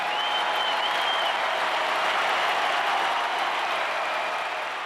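An arena crowd applauds at the end of a field gun race, a steady roar of many clapping hands sustained throughout and fading slightly at the close.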